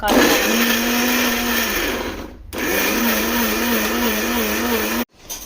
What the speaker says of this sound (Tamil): இப்போ வரிசையா இஞ்சி பூண்டு பேஸ்ட் அரைக்க போகிற